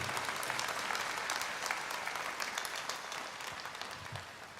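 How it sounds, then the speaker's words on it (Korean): A church congregation gathered for an outdoor night prayer service at Imjingak Peace Nuri Park claps in dense, sustained applause that tapers slightly toward the end. "하나님께 영광의 또 찬양의 박수를 올려드립니다"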